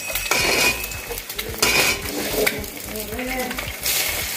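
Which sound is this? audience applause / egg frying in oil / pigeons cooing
egg frying in oil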